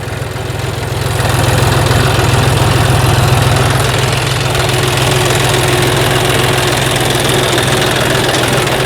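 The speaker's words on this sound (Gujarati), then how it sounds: "આ રીતે રેઢું ટ્રેક્ટર હાલે" A GPS-guided tractor runs steadily nearby with no driver aboard, a loud, low rumbling idle with a constant mechanical throb and no voices.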